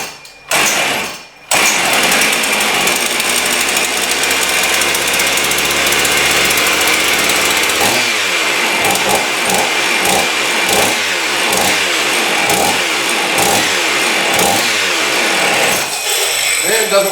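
A Husqvarna 55 chainsaw under repair runs loud and close with the throttle lock on. After a couple of brief cutouts the engine holds a steady high-revving roar, then settles into a rhythmic pulsing surge.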